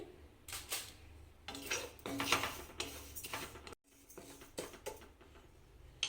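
Rice and almonds dry roasting in a pan for udad dal laddu, with a spatula scraping and rattling the grains in repeated close bursts, quiet overall with a brief gap near the end.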